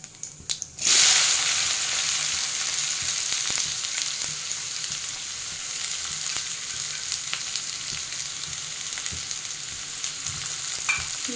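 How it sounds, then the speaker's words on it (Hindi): Chopped onions are added to hot oil for a soyabean curry and fry with a loud, steady sizzle that bursts in sharply near the start, with occasional stirring clicks. "ब्राउन होने तक हम इसे भूनेंगे।"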